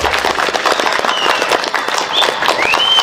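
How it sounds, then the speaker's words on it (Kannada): An audience at a political speech during a Kaivara Tatayya birth anniversary celebration claps in a loud, dense burst of applause, with crowd murmur underneath. "ಇದಕ್ಕೆ ನೀವು ಚಪ್ಪಾಳೆ ಹೊಡಿಬೇಕು"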